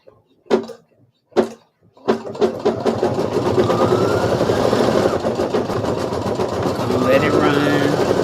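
An embroidery machine stitching poppy flowers runs with a fast, steady mechanical chatter close by, after a few separate clunks at the start, and someone talks over it.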